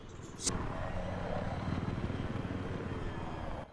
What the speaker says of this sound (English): enemy chopper behind. He's following us.